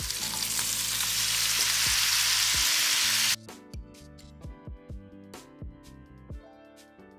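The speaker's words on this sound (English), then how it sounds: "I'm going to add our cabbage in" Cabbage tipped into hot bacon fat with onion and garlic sets off a loud, dense sizzle for about three seconds, which then cuts off, leaving a string of light clinks and taps from stirring in the pan.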